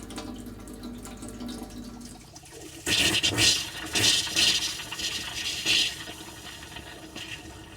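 Water rushes and gurgles through caravan plumbing, starting with a sudden surge and continuing as a steady hiss with fluctuating splashy bursts.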